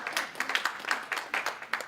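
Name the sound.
audience applause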